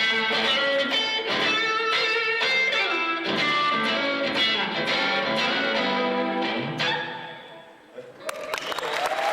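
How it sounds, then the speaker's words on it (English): An electric guitar running through amp simulation on a PowerBook plays loud, sustained, overdriven chords and notes, then the sound drops off near the end as something else starts. "To me, it sounds like an amp with a mic on it."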